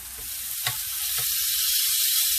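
Skirt steak (churrasco) sizzles steadily in a hot pan, a bright hissing wash that carries throughout, with a couple of soft thuds and a brief flare as the meat is flipped; no talking.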